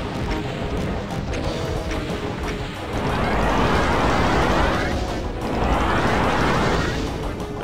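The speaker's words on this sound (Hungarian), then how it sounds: "most robbant fel" Explosions in the 1993 Doom game come as two loud, crunching blasts over continuous noisy game sound, each swelling and fading over a couple of seconds, with possible talking underneath.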